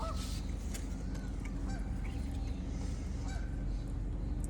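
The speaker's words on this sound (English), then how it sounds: "We're down here in the park today, listening to the geese and the ducks." Geese honking with ducks quacking in a local park, repeated calls overlapping at close to middle distance above a constant background hum.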